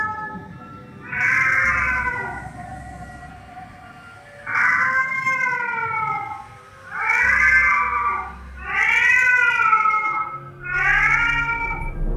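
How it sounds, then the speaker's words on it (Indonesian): A cat yowls five times in long, wavering, pained wails separated by short pauses, loud and close. "Kayak kucing lagi disiksa ya?"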